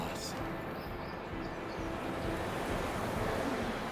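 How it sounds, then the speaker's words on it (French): Rising gusty wind before snow roars and rumbles against the microphone in a steady broadband rush, fairly soft, with no clear speech. "Le vent se lève, la neige arrive"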